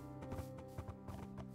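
Horses in the video game Minecraft walk along in a group, giving soft, rhythmic clip-clop hoofbeats over steady background game music, all at a low level.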